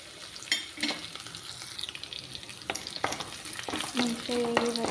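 Cumin, five or six crushed small garlic cloves and red chilli frying in a pan for thotakura pappu, a quiet sizzle broken by spatula scrapes and clinks, close and intermittent.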